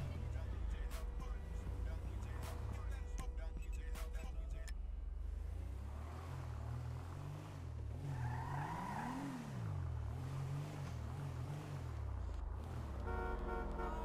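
A car horn honks in GTA 5 traffic, with short toots over a droning engine that rises and falls and occasional tire noise, all under a voice speaking.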